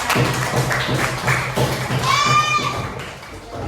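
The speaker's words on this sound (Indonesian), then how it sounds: "Tepuk tangan semuanya." A classroom of students claps hands in a few rhythmic bursts, with children's voices chattering around them and a short high-pitched squeal partway through.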